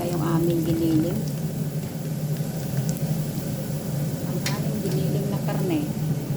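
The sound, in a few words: ground meat frying with onions in a pan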